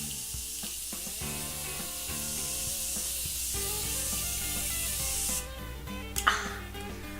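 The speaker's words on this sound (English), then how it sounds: "I'm just gonna finish everything off with a little bit of Morphe setting spray." Morphe makeup setting spray misting out in a couple of short, hissing bursts near the end, over steady background music.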